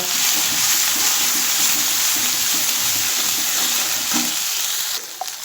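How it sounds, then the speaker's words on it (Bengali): Coriander powder, salt and turmeric sautéing in a pan for a banana-flower (mocha) dish, giving a steady close sizzle with soft, regular stirring scrapes throughout and no talk. "আর দিয়ে দেব হাফ চামচ ধনে গুঁড়ো দিয়ে দিচ্ছি পরিমাণ মতো নুন হলুদ এটা দিয়ে একটু কষিয়ে নেব"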